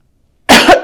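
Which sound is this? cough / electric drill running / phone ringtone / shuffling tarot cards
cough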